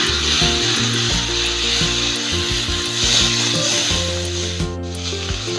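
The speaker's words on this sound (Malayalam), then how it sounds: "ഇനി ഇതിലേക്ക് നമുക്ക് തക്കാളി, 1 തക്കാളി മതി കേട്ടോ, ചെറുതായി അരിഞ്ഞത് ഇട്ട് കൊടുക്കാം." Chopped tomato dropped into hot masala for a squid roast crackles and sizzles steadily in the pan, with scraping and stirring knocks mixed in, close and fairly loud, with no voices.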